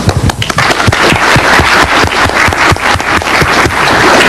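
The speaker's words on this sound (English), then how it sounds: "Applause now in case I embarrass myself." An audience at a DEFCON 7 talk on lock picking breaks into applause, a dense, close burst of many hands clapping that carries on steadily and loudly from start to finish.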